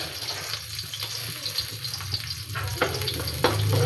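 Ginger and garlic sizzle and crackle steadily in hot oil in a pan for a Kapampangan milkfish dish, close and fairly loud, with a few stirring clicks and scrapes and the sizzle growing stronger near the end.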